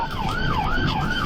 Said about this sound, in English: As soon as officers spotted the vehicle, they activated their lights and sirens, but Kennedy refused to stop.